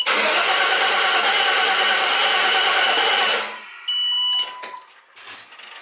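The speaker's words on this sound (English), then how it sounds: "So now, turn it on, crank it over." Starter cranking an LS-swapped engine that fails to catch, a loud steady whirring grind for about three seconds that then stops, followed by faint beeping chimes.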